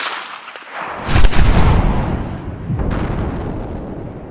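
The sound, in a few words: 7.62x39 rifle shot into bulletproof glass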